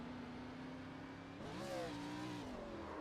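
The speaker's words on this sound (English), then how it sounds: "Oh, he just downshifted and gave it too much" A race car in iRacing at Watkins Glen downshifts and over-revs, its engine tone sweeping sharply upward and holding high before easing, heard faintly over a steady engine drone.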